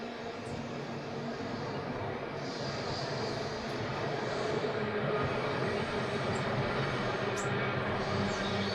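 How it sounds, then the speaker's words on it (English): A continuous low rumble of a Victorian tram rolling past at a distance near Ballaglass Glen, Isle of Man, steady and broad, with no voices. "I can hear the tram."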